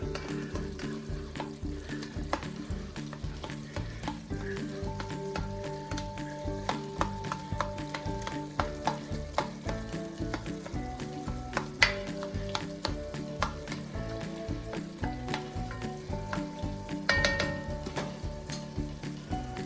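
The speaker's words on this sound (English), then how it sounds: "Mix this a little bit. Try to break the meat a little bit more." Ground meat for a meat sauce sizzles in a pan while being stirred and broken up, with a steady frying crackle and repeated scraping and tapping of a utensil against the pan.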